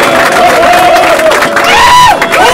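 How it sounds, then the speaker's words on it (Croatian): Loud crowd at a rap battle cheering, whooping and shouting continuously with applause mixed in, voices rising together in an excited din close by. "ogroman respekt i aplauz za Spita"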